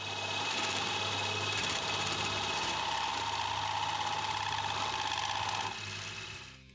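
A knurling tool chatters against a workpiece on a lathe, a loud, steady, high ringing whine with a buzzing undertone that holds for several seconds and then cuts off abruptly, with no speech.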